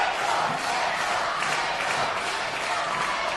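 Packed wrestling crowd cheering after a main event match: loud, continuous roar of voices mixed with clapping, dense and sustained throughout without a break.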